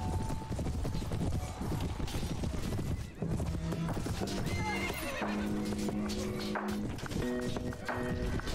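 Horse hooves clip-clop steadily while several horses neigh and whinny loudly in the Prophesy of Pendor game, a Mount & Blade mod, over a busy battle din with no talking.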